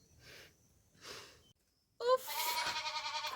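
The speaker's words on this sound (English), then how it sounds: "Oof, the goats." Goats bleat twice on a Kenyan village farm, two short breathy cries near the mic, followed by a louder, sustained harsh bleat that carries on to the end.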